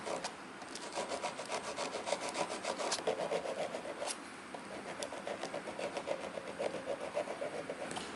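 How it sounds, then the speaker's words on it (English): A metal file rasps back and forth against the cut feet of a watch dial in steady, repeated strokes, close up and fairly quiet, with no talking. "Use a metal file to smoothen the cuts."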